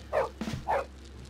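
A dog in the game Bully gives two short, close barks with a brief scuffling sound between them.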